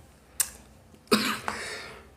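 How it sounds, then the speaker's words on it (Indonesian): A person with a persistent cough gives three short, sharp coughs up close in a quiet room, the middle one strongest, with no talking. "kalau sudah batuk ini kadang-kadang sampai malu mau deket orang"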